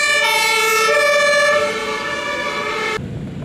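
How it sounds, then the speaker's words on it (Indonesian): An ambulance siren wails loud and close for about three seconds with a rumbling engine beneath, then drops away abruptly. "lihat teman-teman, ada mobil ambulan"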